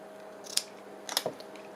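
Scissors cut paper for a 1950s-style handmade journal, two or three crisp close snips with a quiet pause between them.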